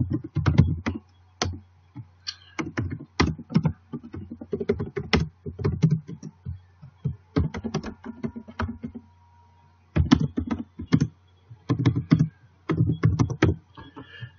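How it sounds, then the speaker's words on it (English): A name and address being typed on a computer keyboard, bursts of rapid close key clicks separated by short pauses, with no one speaking. "you're going to type your name and put your address block underneath it"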